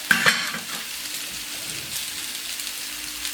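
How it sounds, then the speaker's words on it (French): Hanger steak sears in a hot pan, a steady close sizzle with a couple of sharp crackles at the start, with no voices over it. "On va faire la cuisson de la viande."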